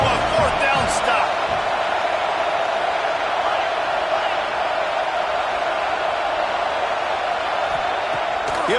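A packed stadium crowd roars in a college football video game during a fourth-down stand, a loud, unbroken wall of cheering that holds steady under an announcer's play-by-play.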